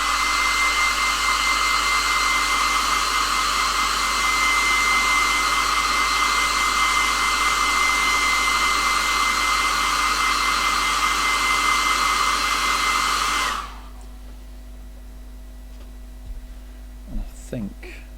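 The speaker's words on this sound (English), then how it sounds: "I'm going to blast him with a hairdryer, so just bear with me" A hair dryer blows steadily and loudly onto a painted miniature, a constant whooshing drone that cuts off abruptly near the end, leaving quiet room tone with a few faint knocks.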